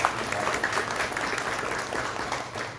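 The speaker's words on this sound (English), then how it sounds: "Have a round of applause for our friends." Attendees at a chamber of commerce networking meeting applaud steadily, a continuous even patter of many hands clapping in a room, moderately loud and unbroken for the whole stretch.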